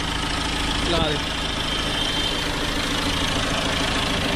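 A BMW 320d diesel engine idles steadily after an engine control module replacement, a loud, even rumble running throughout while someone speaks briefly over it near the start.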